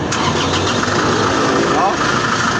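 An Isuzu vehicle's engine cranks and catches, a loud close rumbling start settling into a steady running roar, with voices in the background.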